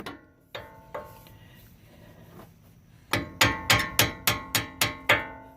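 A few scattered metal taps, then a quick run of about eight sharp hammer blows on metal, close and ringing, in a rapid steady rhythm.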